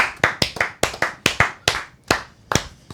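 Sparse, sharp claps from a podcast's fake applause button, about a dozen distinct hand-clap hits in uneven rhythm, close and dry with short gaps between them.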